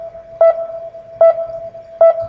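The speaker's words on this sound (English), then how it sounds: "It's kind of like a sonar sound. Put some reverb on it" Sonar-like synth tone with reverb in a beat pings three times at an even, steady pace, each ping loud and clear, its ringing tail holding between hits.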